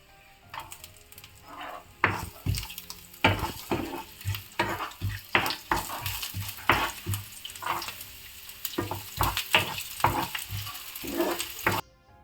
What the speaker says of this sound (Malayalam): നമ്മൾ അരിഞ്ഞു വെച്ചേക്കുന്ന കൊച്ചുള്ളി ചേർത്ത് നമുക്കൊന്ന് ഇളക്കാം